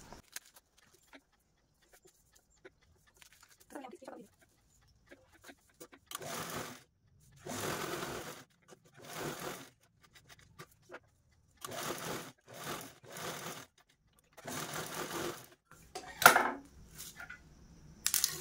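A sewing machine stitches a pocket on a sling bag in short separate bursts of whirring, close but fairly quiet, with pauses and faint handling noises between runs.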